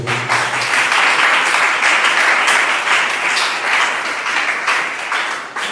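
A church congregation bursts into sustained applause and clapping to acclaim the Lord, a dense, steady wash of many hands that holds strong for several seconds before easing slightly at the end.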